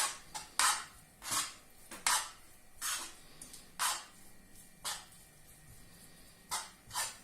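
A spoon scrapes and knocks against a bowl while mashed egg yolk is mixed into freshly fried minced meat, about a dozen short rhythmic clinks and scrapes, close and fairly quiet, with no talking.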